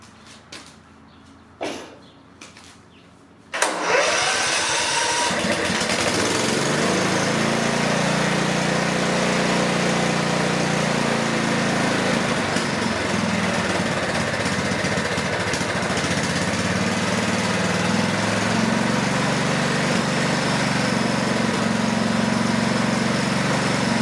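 Craftsman lawn mower engine starts after a few faint knocks, then runs steadily and loudly, a continuous buzzing drone that wavers slightly, with no speech.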